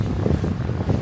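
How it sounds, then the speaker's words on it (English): Wind buffets the microphone in steady low gusts while a sailboat runs up a bay in about 15 knots of breeze, with faint water and hull noise beneath; no one speaks. "It's a bit windy."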